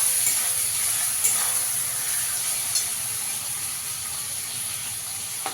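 Tomatoes fry with browned onions in a pan for rui fish kosha, a bright continuous sizzle close up with a few light clicks of stirring and no talk.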